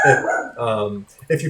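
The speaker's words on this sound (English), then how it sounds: "sorry about the dogs" Dogs bark in the background of a room while someone speaks over them, the barks loud and mixed into his voice throughout.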